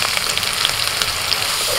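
Ginger fries in hot oil in a pan for a fish curry, making a steady close crackling sizzle with small pops throughout and no speech.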